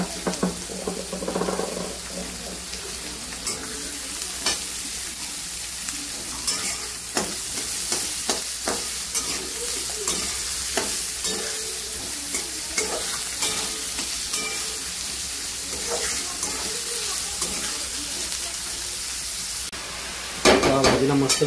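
Onion frying with chillies in a pan for a monsoon wild-greens dish, a continuous loud sizzle with scraping stirs throughout and a sharp change in the sound near the end.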